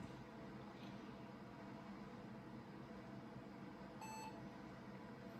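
A short electronic beep from a booting Pentium II computer sounds once over a steady hum of machine noise and fan-like hiss.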